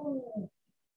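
A human voice imitates a cat meowing in a single short, tonal meow lasting about half a second, close and clear, followed by silence.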